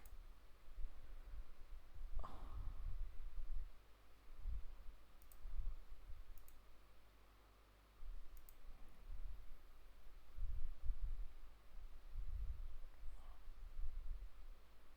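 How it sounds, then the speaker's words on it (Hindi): A computer mouse clicks a few times, faint and sharp, over a steady low hum with no talking. "यहाँ पे आप क्लिक भी कर सकते हो तो शायद वो सर्कुलर खुल जाए"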